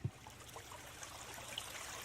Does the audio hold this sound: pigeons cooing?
no